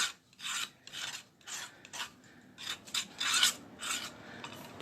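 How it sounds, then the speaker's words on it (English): A knife scrapes acrylic paint off a wooden surface in a series of short, rhythmic rasping strokes, close and fairly quiet, with brief pauses between them. "We're going to have to scrape off this paint."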